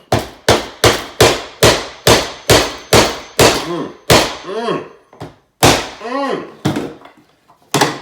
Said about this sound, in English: It's only a hammer, but it's very important.